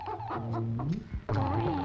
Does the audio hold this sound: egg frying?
no